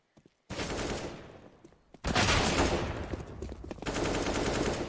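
Pistol fire during a Counter-Strike match on the Inferno map, with dense bursts of shots in two loud stretches after a near-silent start.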